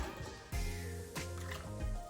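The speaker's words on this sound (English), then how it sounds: "When the water is nicely boiling, we add the pre-soaked rice." Pre-soaked rice is tipped into a pot of boiling salted water for biryani, a soft splashing plop followed by wet bubbling and squishing, close and fairly quiet.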